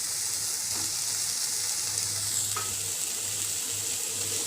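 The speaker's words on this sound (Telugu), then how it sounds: "నూనెలో కొంచెం సేపు కొత్తిమీర అంతా వేయించుకోవాలి" Coriander leaves and tamarind fry in oil, a close hissing sizzle that stays level throughout, with a low intermittent hum beneath and a couple of faint clinks, no speech.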